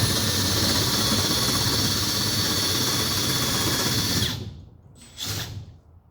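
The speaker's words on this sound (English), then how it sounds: "So I've got a 3/4 inch drill bit on the end here" A Makita 18V LXT cordless drill fitted with a 3/4 inch bit whines loudly and continuously while boring, then cuts off abruptly and gives a brief second burst before stopping.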